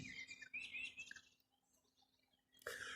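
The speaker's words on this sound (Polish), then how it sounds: "Ptaszki widać nie dają za wygrane, zwłaszcza jak samochody nie jadą." Several high, bright bird chirps and short trills, fairly close, with a quieter gap in the middle before another burst of calls.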